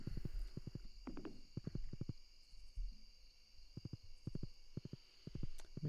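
Horse hooves in the Stardew Valley video game, heard as short bursts of quick, rhythmic clip-clop steps separated by pauses, over a steady faint game hum with no talk.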